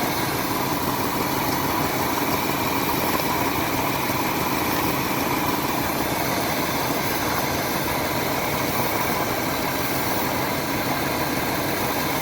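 RV engine idling after carburetor work, a steady, even, droning idle that holds constant with no dips, close and continuous for about twelve seconds without speech.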